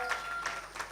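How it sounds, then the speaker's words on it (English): An audience at a youth conference applauds as a panelist walks onto the stage, a steady, even wash of clapping that lasts the whole moment, with no voices over it. "Please, a round of applause for her as she comes."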